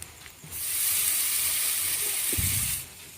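Water poured into a hot pan while cooking khichuri bursts into a loud, steady sizzle that holds for about two seconds before cutting off, with a faint clatter near the end.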